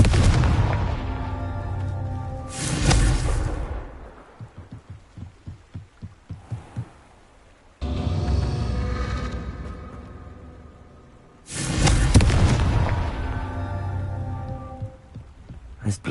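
Confringo fire spell blasts in Hogwarts Legacy, three heavy booming explosions with long rumbling decays, separated by a stretch of rapid crackling debris.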